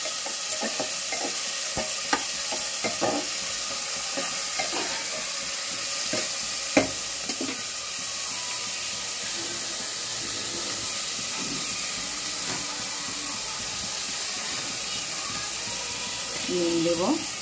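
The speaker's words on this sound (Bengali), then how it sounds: "পেঁয়াজটা ভালো ভালো করবো। আমি হাফ লাল করবো, ফুল লাল করবো না" Onions frying and being stirred in a pan while cooking a Bengali lauki dal, a steady sizzling hiss punctuated by intermittent scraping stirs throughout.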